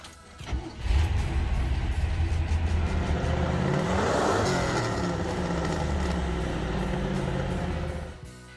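A 1969 Chevrolet Camaro COPO 427 muscle car engine roars and revs loudly up close, a deep throaty burst that swells and holds for several seconds before easing off.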